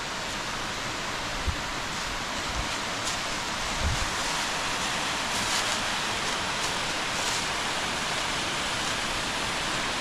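Freedom Falls, a waterfall in Venango County, Pennsylvania, rushes in a steady broadband roar of falling water, constant and enveloping, with no voices.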